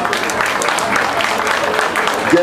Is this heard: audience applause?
yes